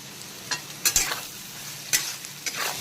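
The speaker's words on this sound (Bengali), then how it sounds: "পেঁয়াজটা ভাজা ভাজা হয়ে এসেছে, কিন্তু এখনও আরেকটু ভাজা করে নিতে হবে" Onions with salt fry quietly in a pan with a soft, constant sizzle. A few light scrapes and clicks of stirring come at irregular moments, and no one speaks.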